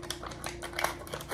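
Scissors snip and crunch through a tough plastic package in a few close, sharp cuts, with faint crinkling between them in a quiet indoor setting.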